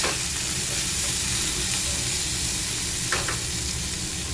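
Curry leaves, onion and green chili sizzle in hot oil already crackling with mustard seeds and dried red chili, a dense continuous hiss with a short clatter of stirring partway through.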